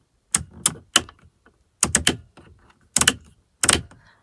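Sharp mechanical clicks in small clusters, the light switch of a Land Rover Discovery 4 being flicked repeatedly, crisp and close with brief pauses between groups.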